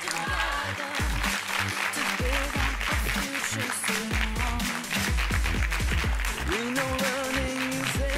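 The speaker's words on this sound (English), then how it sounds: "Can we get a round of applause?" Studio audience applause for the pentathlete of the day at a girls' schools pentathlon quiz, a steady dense clapping bed over about eight seconds with loud musical stings and tones layered on top.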